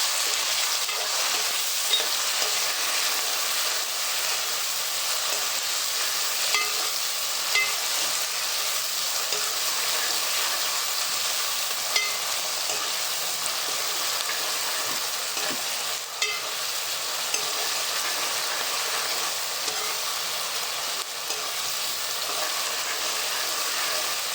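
Onion and tomato frying in hot oil in a pan for a dry fish curry, a steady, even sizzle heard close and continuous throughout with faint stirring scrapes and no talk.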